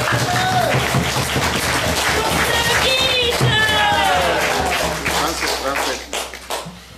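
An audience at a spiritual program in Russia claps for the organizers, a dense patter of hands running under overlapping talk and a few voices before the applause thins and tapers off.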